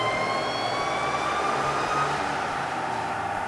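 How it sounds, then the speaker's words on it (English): A 2007 Jeep Wrangler JK with a 3.8L Sprintex supercharger screams on a dyno, a loud steady engine and supercharger whine rising in pitch through the run. "we'll go ahead and run it with the supercharger installed"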